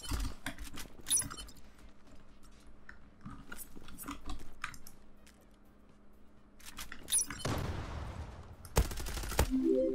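Sharp gunshots from the Zula online shooter snap out in scattered single cracks and short bursts, sometimes near and loud, sometimes fainter, with someone talking between them.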